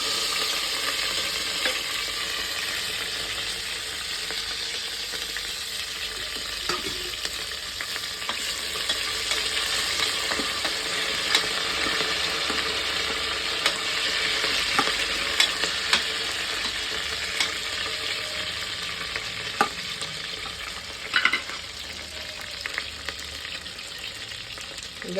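Onions fry in oil with mustard seeds in a pan for a Karnataka togarikayi saru, a continuous soft sizzle with occasional stirring scrapes and clinks, close by and without talk.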